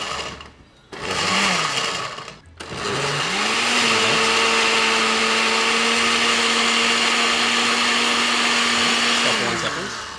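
Blender grinding chicken seasoning ingredients at medium speed, with a loud steady whine that starts briefly, stops, then restarts and holds before winding down.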